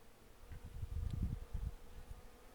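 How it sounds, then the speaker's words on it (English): Bees buzz around the flowers of a hairy yerba santa shrub, a low droning hum that swells and fades as insects pass close by the microphone, with no talking over it. "You can probably hear the bees buzzing."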